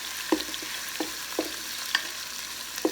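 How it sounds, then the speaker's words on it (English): Garlic and onions sautéing in an Instant Pot, a steady bright sizzle with soft scraping clicks of a spoon stirring at irregular intervals, close and moderately quiet. "Stir this around a little bit."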